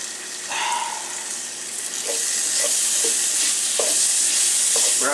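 Garlic and onions frying in a pan on a stovetop while being stirred, a steady close sizzle with repeated scraping stirs over continuous hiss.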